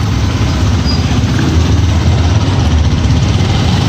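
A motorcycle engine idles steadily and loudly close by during a traffic inspection, its low, even throb unbroken for the whole stretch, with no voices.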